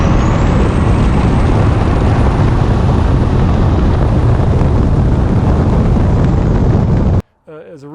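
A 12V Cummins diesel truck driving fast down the road makes a loud, continuous rushing roar with heavy wind noise, which cuts off abruptly just before the end.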